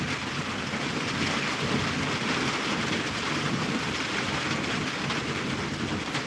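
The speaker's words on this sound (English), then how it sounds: "It's still raining, though drizzling" Rain falls steadily outside in cold weather, a constant broadband hiss with a low rumbling undertone that holds evenly throughout, with no talking.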